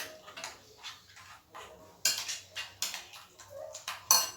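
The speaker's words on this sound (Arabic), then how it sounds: "غنحرك المكونات مزيان" Utensils clinking and scraping against a bowl in irregular strokes while stirring ingredients with lemon juice for a fish tagine, close by, with occasional sharper knocks.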